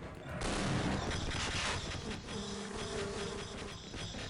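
Bees buzz through a level of the video game Half-Life, a dense, loud swarm-like drone with crackling bursts filling the whole stretch, and a steady mid tone emerging toward the end.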